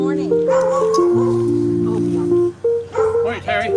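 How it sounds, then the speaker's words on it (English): Dogs bark and whine with high, sliding yips in the morning, loud and close, mixed with people's voices as greetings are exchanged. "The dogs."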